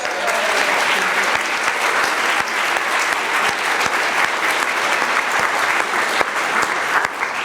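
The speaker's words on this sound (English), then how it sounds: "Can we give her a round of applause?" An audience at a Wake Tech welcome event gives steady, loud applause, a continuous wash of many hands clapping that holds for the whole stretch without any break.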